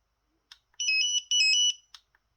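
Electronic alert melody from a Sun Telecom ST800 numeric display pager: a few short preliminary clicks, then two bursts of rapid, bright, high-pitched warbling beeps in quick succession, close and clear with no talking.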